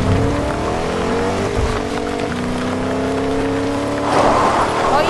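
A video game car engine drones steadily throughout while driving, with harmonic engine tones that shift slightly in pitch, and a brief swell of noise near the end.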